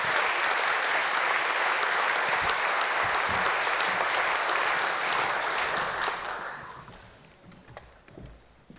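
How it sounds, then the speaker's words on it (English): Sustained applause from an audience at a Church of England General Synod session fills the hall, dense and steady for about six seconds before thinning out and fading. "Do please give them another round of applause as they kind of move off back into their places"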